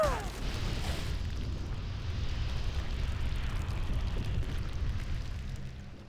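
A deep, rumbling explosion in the game Warcraft III: The Frozen Throne, during the Orc campaign, rolls on as a sustained low roar before fading out at the end.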